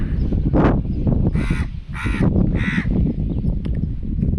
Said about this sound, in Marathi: का कावळे दादा तुला काय पाहिजे तर कावळा येऊन बसलेला आहे